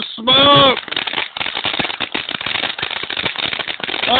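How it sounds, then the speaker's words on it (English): Street fireworks go off on 82nd Avenue in Portland, Oregon: a loud burst followed by a dense, crackling rattle of firecracker pops that runs on for several seconds. "Once again, it's Big Bang fireworks, 82nd Avenue."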